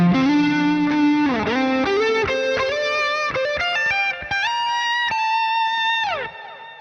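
Overdriven dirt channel from a guitar amp plugin, thick distorted chords and sustained notes ringing continuously with sliding pitch changes, loud and upfront with no talking.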